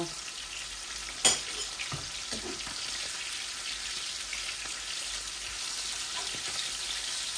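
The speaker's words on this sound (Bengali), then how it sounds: "মাছগুলো আমি মিডিয়াম সাইজে ভাজা করবো, এত বেশি পুড়ে পুড়ে ভাজা করব না" Fish fries in oil with a constant close sizzle and hiss, a brief clatter near the start, and no talk.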